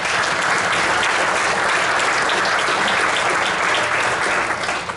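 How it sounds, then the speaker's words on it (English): A room full of people at a Rotary centennial projects launch applauding, dense and loud continuous clapping that holds evenly for about five seconds and fades only at the very end. "Let's give these people a round of applause."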